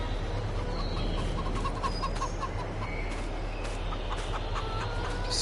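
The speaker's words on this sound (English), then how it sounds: "Chickens." Chickens cluck in a farming video game on PS5, a steady, busy barnyard murmur of short calls over continuous ambient game sound, with no talking.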